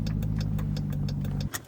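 Dodge Durango Hellcat pulling up to a gas station, its engine idling with a steady low rumble and a faint rhythmic ticking, before the tone drops away near the end.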